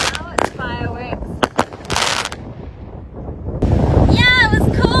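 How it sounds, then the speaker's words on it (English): Independence Day fireworks burst in a run of sharp booming cracks, some crackling and loud close to the microphone, while people talk and exclaim excitedly between and over the explosions. "Now it's fireworks."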